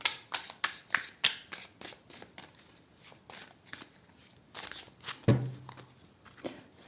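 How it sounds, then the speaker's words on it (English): A deck of tarot cards is shuffled by hand close up, a run of quick crisp riffling snaps and soft flicks in an irregular rhythm, fairly quiet and with no talking. "I'm just gonna give them another shuffle."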